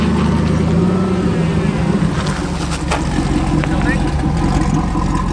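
A car engine drones loud and steady close to the mic during street drifting on newly fitted coilovers, with a sustained roar and slight shifts in pitch throughout rather than distinct rev spikes.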